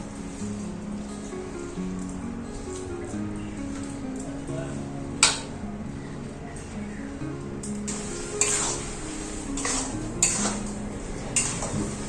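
A spoon scrapes and stirs a thick mixture of grated coconut and jaggery in a metal wok, with occasional clinks and a soft sizzle, over a low steady background hum.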